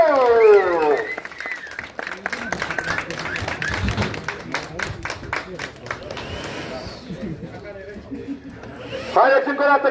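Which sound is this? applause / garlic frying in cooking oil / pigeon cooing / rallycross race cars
applause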